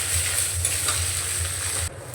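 A spoon stirs an oil-free roll filling with chopped coriander in a pan, giving a steady close scraping over a soft continuous sizzle, with no talking.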